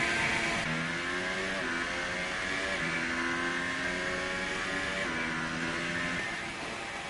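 Formula 1 car engine in the racing game F1 2018 at Abu Dhabi, droning at a steady pitch as if stuck in gear, with repeated small pitch steps but no real climb, loud and continuous without any talking.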